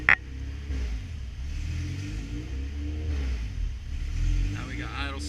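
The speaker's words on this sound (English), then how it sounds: "Now we got idle surge because there's air in the system." Car engine from an F2B swap idling with a surge caused by air in the fuel system, a low rumbling idle that rises and falls unevenly, with someone talking over it.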